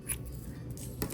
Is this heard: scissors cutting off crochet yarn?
yes